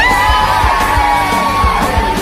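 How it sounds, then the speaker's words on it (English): Loud crowd at the World Food Championship in Orange Beach, Alabama yelling, whooping and cheering continuously, a dense wall of voices with occasional thumps underneath. "There's yelling, there's cheering"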